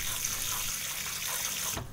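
Steady stream of water pouring onto a tray of wheatgrass, a continuous loud splashing that stops abruptly near the end.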